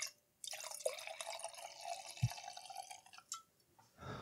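Junmai Yamahai sake pours into a glass with a soft, close trickle and light splashing. A single drip-like tap stands out midway, and the quiet pour tapers off just before the end.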